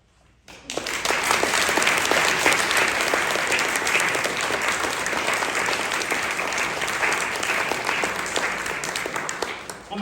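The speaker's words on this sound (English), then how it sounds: "Keep that applause going for all our winners this evening." An audience at a literary competition awards ceremony breaks into applause for the winners, a sudden swell of dense, sustained clapping that holds steady and loud for several seconds.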